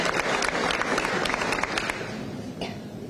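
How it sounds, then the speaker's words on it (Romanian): Applause from a crowd honoring Romanian Olympic rowers and athletes returning home from the 2024 Games, a dense wash of many hands clapping loudly and steadily before thinning out toward the end. "Merită aplauze."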